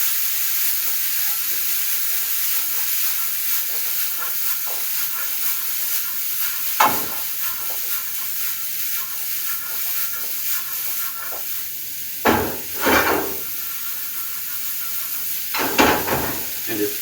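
Golden apple mélange sizzling steadily in a hot pan with a continuous hiss, punctuated by a few louder scraping tosses of the mixture.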